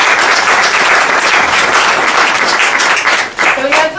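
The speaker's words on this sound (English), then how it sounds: "Give yourselves a round of applause." An audience claps loudly at an evening event, a dense, close wash of applause that holds steady for several seconds before thinning slightly near the end.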